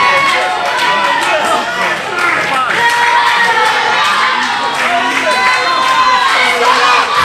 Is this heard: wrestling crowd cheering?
yes